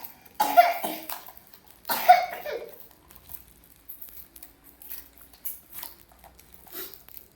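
Two sharp, close coughs from a sick person with a fever, spaced about a second and a half apart, followed by soft scattered rustles and small noises in a quiet room.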